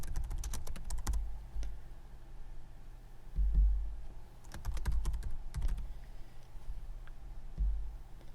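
Bursts of rapid typing on a computer keyboard, close and clear, with pauses between runs of keystrokes and no talk.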